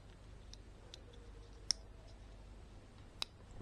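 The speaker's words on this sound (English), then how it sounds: "we'll just click our locking piece back in" A locking piece on an engine wiring harness connector for a Nissan Z32 300ZX twin turbo clicks into place in a quiet workshop: two sharp, close plastic clicks with a few softer ticks and handling sounds around them.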